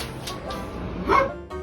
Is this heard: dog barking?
yes